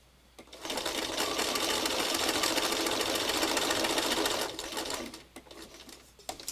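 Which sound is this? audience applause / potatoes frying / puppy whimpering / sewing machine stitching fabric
sewing machine stitching fabric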